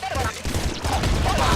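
Rapid burst of homing bolts firing in Nuclear Throne, a dense crackling fusillade of shots over a continuous backing game soundtrack, brief and loud.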